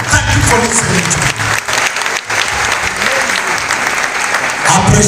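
A church congregation at a memorial service gives the bishop loud, sustained applause, a dense wash of many hands clapping close by with voices mixed in.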